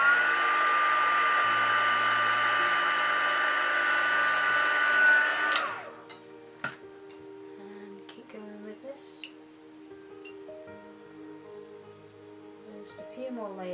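A heat tool blows steadily at close range for about five seconds while setting a crease, then cuts off and spins down, leaving faint handling clicks and low room hum.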